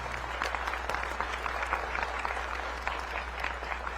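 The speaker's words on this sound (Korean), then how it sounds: "그분들을 위해서 다음 세대를 위해서 큰 박수 일단 보내드리면 좋겠습니다" Sustained applause from a large audience of students and guests at a Prime Minister's keynote address on democracy, a steady dense clapping that holds evenly throughout with no voices over it.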